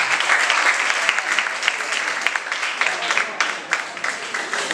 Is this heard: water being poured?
no